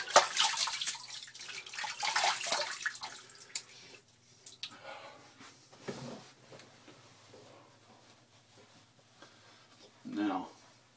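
Water splashes and drips as a Gold Dollar 200 straight razor is rinsed at a sink during a shave, a loud burst of running water and then scattered drips and clinks, with a later short splash.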